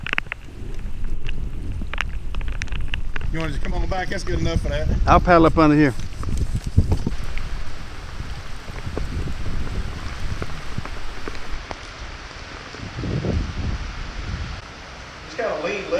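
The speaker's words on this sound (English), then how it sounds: "Here comes a ton of rain." Heavy rain falls during a fishing outing on the water, a steady broadband hiss of drops beneath close conversation between people in a boat.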